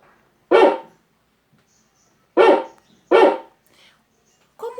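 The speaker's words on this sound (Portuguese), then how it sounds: "Vou colocar aqui um cachorro para latir." Three loud, sharp dog barks, the second and third close together, with quiet pauses between and a short yelp at the end.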